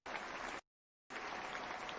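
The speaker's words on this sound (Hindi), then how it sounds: "इनके लिए जोरदार ताली।" Audience applause at an inspirational business seminar, two short bursts of dense, even clapping separated by a sudden gap of silence.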